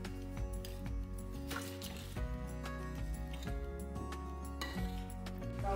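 Sugar, cornstarch, cinnamon and lemon juice stirred together in a bowl, a steady run of clinking spoon-on-bowl taps and soft scraping over a constant background hum, with no talking.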